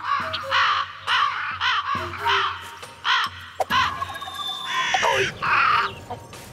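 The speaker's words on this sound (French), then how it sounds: "Tu entends leur croassement? C'est insupportable." Crows caw repeatedly in harsh, rhythmic calls, some overlapping, with other noises and movement mixed in near the end.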